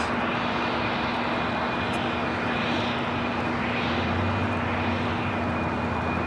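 An airliner in As One Against Cancer livery takes off from LAX toward Nottingham. A steady jet roar with a sustained engine whine runs throughout at moderate distance, with no voices.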